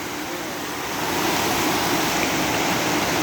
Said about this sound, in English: this essentially became an active waterfall here